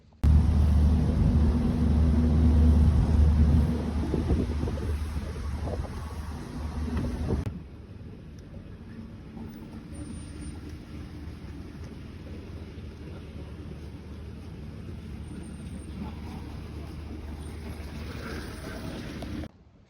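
Morning road traffic by the gate of Oniru Estate on Victoria Island, Lagos: a loud, steady rumble of vehicles with a strong low-end wash that drops suddenly partway through to a quieter, continuous hum of engines and wind.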